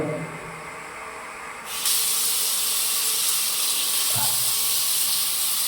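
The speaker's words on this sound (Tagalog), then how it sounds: "Yun po natin shower." Shower in a newly built bathroom turned on, starting as a quiet hum and then bursting into a loud, steady hissing spray that continues close by to the end.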